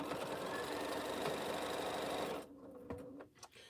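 A sewing machine stitches churn dash quilt blocks with a steady, fast mechanical whir, close and even, then stops abruptly; a few faint clicks and handling knocks follow in the quiet.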